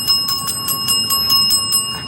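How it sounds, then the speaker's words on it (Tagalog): A small bell rings in rapid repeated strikes, bright metallic dings about every fifth of a second with a lingering tonal hum, close and loud with no talk. "Kaya sa sobra, binili ko yung bell."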